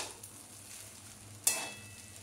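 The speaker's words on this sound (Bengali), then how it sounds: "পাস্তা মশলাটা ভালো করে মিশিয়ে নেব।" Pasta masala stirred into a chicken and vegetable pasta in a hot pan, giving a low sizzle and soft scraping. One brighter scrape or clink stands out midway, close and quiet, with no voices.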